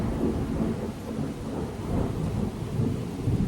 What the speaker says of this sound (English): giant thunder about to come in